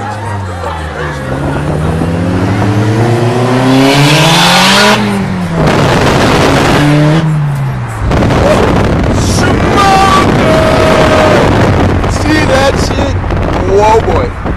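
A turbocharged car on slicks revs and accelerates hard while street racing, with rising and falling engine tones, loud and close against wind noise and rumble, and a voice talking over it.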